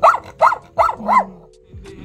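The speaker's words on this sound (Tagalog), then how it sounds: "Sa kabilang table namin ay may cute na aso pero mukhang galit siya." A small angry dog at a nearby restaurant table gives four quick sharp barks in a row, then a low growl, close and loud.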